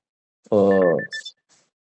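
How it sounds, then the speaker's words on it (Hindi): An alarm goes off indoors during a quiet sit-down at a house: a loud, buzzy tonal ring lasting about half a second, then a short run of higher electronic beeps before it stops. "किसमें अलार्म बजा?"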